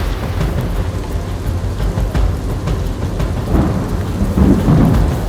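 Torrential rain pours down in Viramgam, Gujarat, during flooding, a dense steady roar of downpour with deep thunder rumbling underneath, loud and close throughout.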